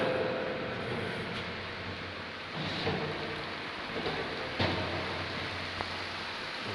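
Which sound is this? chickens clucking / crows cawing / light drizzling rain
light drizzling rain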